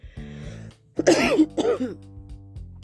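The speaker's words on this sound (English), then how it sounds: "Excuse me, despite that cough" Two rough coughs up close from someone recovering from Omicron and flu, over a low steady hum in the background.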